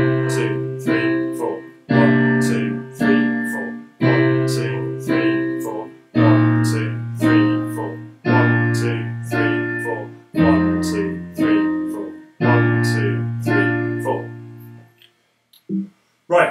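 Both hands on a keyboard play a basic accompaniment to a song: rhythmic chord stabs over sustained bass notes in a steady repeating pattern, clear and up close, ending with a short pause and a couple of soft notes.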